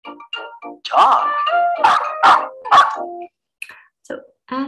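A dog gives a quick series of loud, sharp barks and yips, close by, with short gaps between bursts and a couple of softer calls toward the end.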